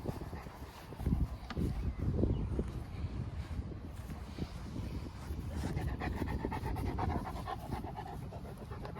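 A big Boerboel dog pants steadily and close by in an open backyard field after rain, with rhythmic breaths running through the whole stretch and no talk.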